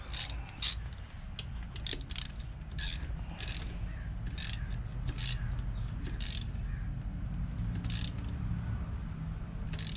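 Ratchet wrench tightening the shifter bolt on a Honda CT70 motorcycle: a series of sharp, close clicking bursts at irregular intervals over a steady low background hum, with no talking.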